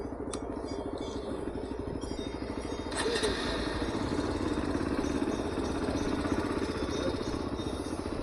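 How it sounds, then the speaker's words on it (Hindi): A motorcycle engine idles steadily at Sach Pass in light drizzle, a continuous mid-low clattering throb that grows slightly louder partway through, close to the microphone with no talk over it. "बाइक बंद मत करो, बाइक ऑन दो।"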